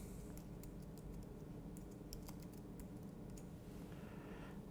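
Keys clatter in quick, irregular taps on a computer keyboard, faint and close against a steady low background hum, with no voices.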